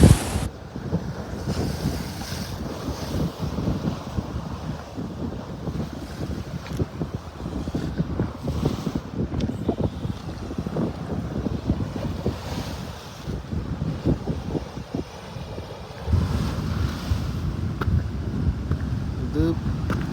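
Steady wind buffeting the microphone over waves breaking on a sunny coast facing the sea in the UAE, a continuous rushing roar throughout, swelling louder near the end.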